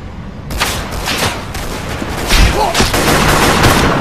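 Gunfire rattles through a session of the Android mafia shooter Gang War Mafia, with bursts and single shots cracking over a constant loud game din for about four seconds, close and harsh.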